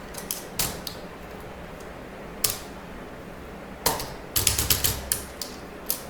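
Keys typed on a computer keyboard while writing C code, with scattered bursts of sharp clicks separated by pauses and a couple of isolated heavier key strikes, close and clear with no talk.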